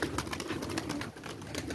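Pigeons on a rooftop cooing steadily in a soft continuous murmur, with a constant outdoor background and no talking.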